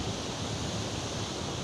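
Strong wind sweeps across a hilltop near the Subbadeurali temple, a loud, steady rushing roar buffeting the microphone with no break.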